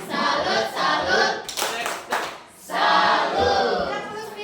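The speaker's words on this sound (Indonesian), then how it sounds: "Tepuk tangan untuk kelompok 2." Classroom group claps for a student group after a physics lesson presentation, in bursts with short breaks, mixed with shouted cheers and voices.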